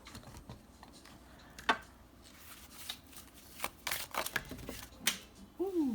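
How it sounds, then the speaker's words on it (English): Tarot cards being shuffled by hand, giving a run of soft riffling flicks and sharper card snaps, close and moderately loud, with no talking. "Ooh, I didn't even shuffle good"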